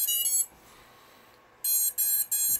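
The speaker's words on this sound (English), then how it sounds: "run cam split starting up. That's what that beeping was." An RunCam Split FPV camera on a 3-inch drone powers up with electronic beeps: a tone at the start, a pause, then three short beeps in quick succession, close and clear.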